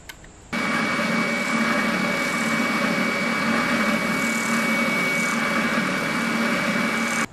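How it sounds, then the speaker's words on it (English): A bobbin sander starts up and runs continuously, shaping a guitar nut blank with a steady, loud motor whine and grinding hum that holds evenly to the end. "I'm going to try and sand it to shape using the bobbin sander"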